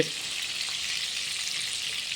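Potatoes frying in hot oil for a chicken curry at an outdoor picnic, a steady, dense sizzle that holds level and close throughout, with no voices over it.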